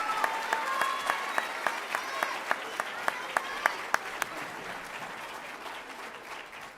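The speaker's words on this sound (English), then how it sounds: "One more round of applause, please, for Team Destiny." A crowd at an eighth grade school awards ceremony gives a round of applause for a team, dense clapping with some distinct nearby claps, tapering off gently while faint voices continue underneath.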